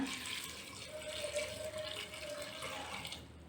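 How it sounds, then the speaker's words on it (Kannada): Water runs steadily into a cooking pot holding sprouted horse gram for a curry, a continuous splashing flow heard close up and alone, with no talking over it. "ಮುಳುಗೋ ನೀರು ಹಾಕಿದ್ದೀನಿ"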